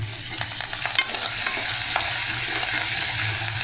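Green chilies sizzle steadily in hot oil during a tempering for temple-style pulihora, a dense continuous crackle with scattered sharper pops, fairly close and loud throughout with no talking.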